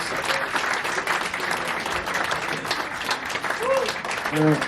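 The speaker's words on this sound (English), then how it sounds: "give a big round of applause for Sight" Audience applause rings out for a speaker at a Boo Radleys retrospective event at Rough Trade Liverpool, dense steady clapping with a few cheers and scattered voices through the crowd.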